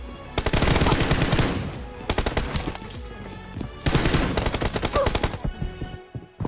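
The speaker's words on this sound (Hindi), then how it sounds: "जोकर फॉक्स अब भी लेफ्ट साइड में ही फायर कर रहा है।" Rapid automatic gunfire in a mobile shooter game team deathmatch, loud bursts of closely spaced shots that stop and start in two main volleys, with no talking over them.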